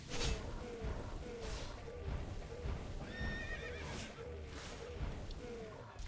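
Minecraft horse whinnies loudly while hooves clop in a steady rhythm beneath, with game effects and background activity around it.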